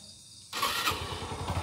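A motorcycle engine catches after a quiet moment and settles into a close, steady, moderately loud running putter with a low rhythmic pulse.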